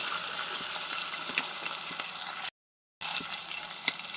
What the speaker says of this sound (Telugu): ముందు తాలింపు అయితే పెట్టేసుకున్నా.